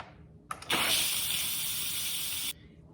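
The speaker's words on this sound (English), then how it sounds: "I'm just gonna use the handle of my ladle to hit the steam release button." An Instant Pot pressure cooker venting steam through its release valve after cooking pickled eggs, a short click then a loud, steady hiss that holds for about two seconds before cutting off abruptly.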